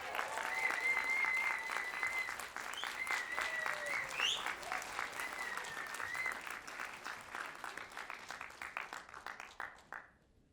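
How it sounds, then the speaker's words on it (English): Festival audience applauding the makers of a film at a screening Q&A in Germany, with sustained close clapping, a few whoops rising over it, and a rhythmic tail of claps fading out near the end. "A huge round of applause for the makers of the movie."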